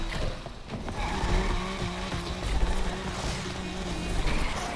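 A Subaru BRZ in Need for Speed Unbound breaks into a drift, its tyres squealing steadily over a droning engine, loud and sustained throughout with a faint voice beneath.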